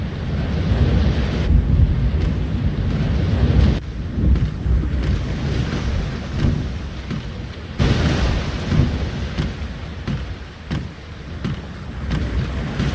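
Thunderstorm at sea in The Longest Journey video game, with a steady loud roar of rain and wind and rolling thunder rumbling throughout, no voices.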